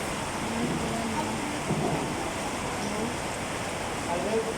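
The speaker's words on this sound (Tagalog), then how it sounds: "ang lakas ng ulan" Heavy rain pours down in Polomolok, a dense, steady roar of water that stays loud and unbroken from start to finish.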